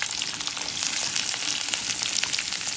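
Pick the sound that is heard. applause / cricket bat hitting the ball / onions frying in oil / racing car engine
onions frying in oil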